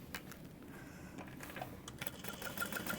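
A home sewing machine stitches a quilted trick-or-treat bag with a quiet, steady rapid clatter of the needle, close by and running continuously.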